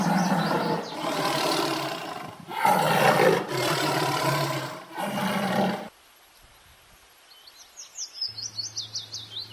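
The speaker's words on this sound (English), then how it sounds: "T for tiger." A tiger gives four loud, rough roars in quick succession, each about a second long with brief gaps, then falls silent before high chirping bird calls follow.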